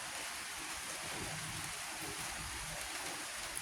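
Rain falls steadily, a soft constant hiss of drops without any break or build.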